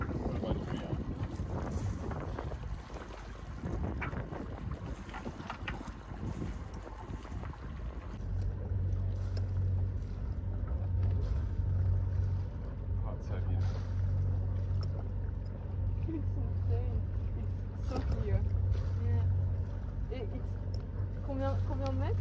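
Sailboat under way on the Atlantic near the Bahamas in about six meters of water, with steady broadband wash and wind buffeting on the microphone, a low hum joining partway through, and speech present.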